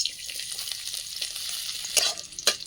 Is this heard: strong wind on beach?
no